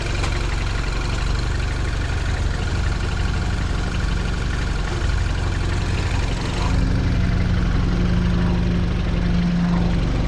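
An R56 Mini with a big turbo upgrade idling, a steady low rumbling drone with a constant throb, close and loud, rising slightly in level partway through, no voices.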